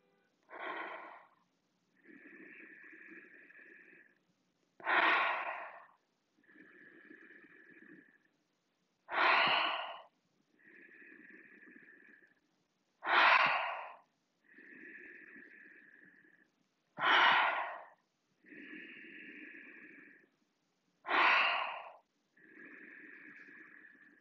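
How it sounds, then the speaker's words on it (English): Paced labor-style breathing repeats in a slow, even cycle, with a strong audible inhale followed by a softer, longer exhale, about six rounds. The breaths are close and alone, with no talk. "Take a deep cleansing breath in and release it out through the mouth"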